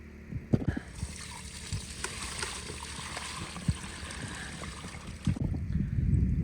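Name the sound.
water swirling in a gold pan during gold panning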